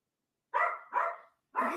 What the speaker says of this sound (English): the little dog wants to start barking right now